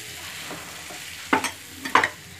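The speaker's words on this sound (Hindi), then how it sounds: "गट्टे डाल देंगे इसमें और अच्छे से मिक्स कर देंगे। और इसमें डालेंगे ये हमारे उबले हुए चावल।" Gatta dumplings and boiled rice are stirred in a pan for Rajasthani gatta pulav, with two quick scraping strokes of the spoon over a low sizzle in a close kitchen.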